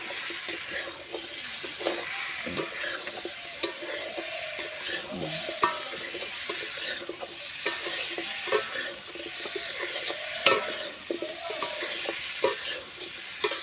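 Fish and potato pieces are stirred in a sizzling frying pan, with a continuous close fry crackle and repeated scraping and clacking strokes of the spatula at an uneven rhythm.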